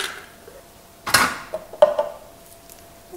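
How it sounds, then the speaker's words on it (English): Ice cubes pour into a kitchen blender jar in a short rattling burst, followed by a few lighter clinks and taps in a quiet room. "You open it up, pour the ice cubes in"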